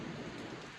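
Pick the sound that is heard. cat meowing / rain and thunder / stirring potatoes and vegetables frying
rain and thunder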